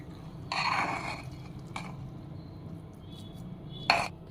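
A spoon scrapes and clinks against a pot while dal khichdi is stirred after a cup of water is added, giving a few short metallic bursts with quiet gaps between them in a home kitchen.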